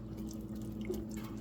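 Liquid poured into a pan of beef dressing, a faint, steady trickle with light drips, no talk over it.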